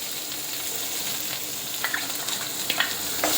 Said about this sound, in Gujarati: અને થોડી વાર માટે સાંતળીશું